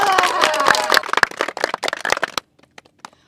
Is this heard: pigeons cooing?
no